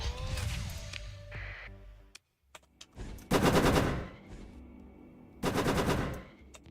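Weapons firing in the space combat game Starsector, rapid machine-gun-like bursts in two loud volleys separated by quieter whooshing and clicks, with no voices.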